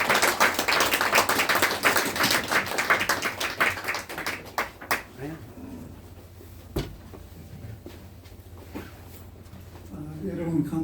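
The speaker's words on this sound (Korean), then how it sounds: "강민조 회장님을 커다란 박수로 모시겠습니다." Audience at a civic forum on national self-determination and peace applauding to welcome a speaker, loud dense clapping for about five seconds that thins into scattered claps and fades, with a voice speaking near the end.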